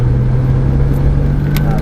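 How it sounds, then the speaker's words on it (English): A racing car at full throttle on the Mondello Park circuit, its engine a loud, steady, droning roar held at constant pitch, with an instructor's voice partly mixed in. "Feed on the throttle, full throttle now"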